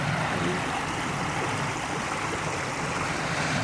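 A stream flows steadily through the basin of Boulder Canyon in the Superstition Wilderness, a dense, constant rush of water close by with no pauses, no talking.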